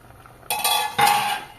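Pot lid and utensils clattering against a cooking pot while making chal potol, a Bengali vegetarian pointed-gourd and rice dish with cashew paste and raisins: two bright metallic clanks of lid and spoon in close succession, loud and near, with no talk.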